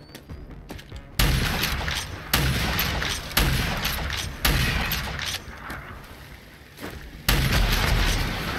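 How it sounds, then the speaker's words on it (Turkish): Loud, booming shotgun blasts in the Rage 2 video game, about six heavy shots spaced a second or so apart. Each one has a sharp attack and a rumbling tail, with quieter game sounds in between. "Biz pompalımızla."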